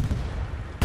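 A single loud, close gunshot in the World War II shooter game Hell Let Loose, a sharp crack at the very end following a brief stretch of rumbling battlefield noise.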